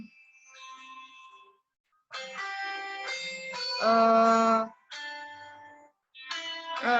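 Mobile phone ringtone playing a melodic electronic tune in short bursts separated by pauses, moderately loud and without talk.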